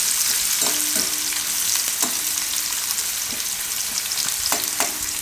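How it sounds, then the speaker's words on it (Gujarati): Thinly sliced carrots stirred and frying in hot oil in a pan, a steady close sizzle with scattered clicks and scrapes of the spoon, no talking. "થોડીક વાર આપણે આમાં ફેરવી લેવું, 2 થી 3 મિનિટ"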